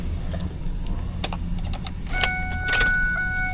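Metal keys jangle close by inside a car cab, a few bright clinks followed by ringing tones as a key slides into the ignition of a rebuilt diesel truck.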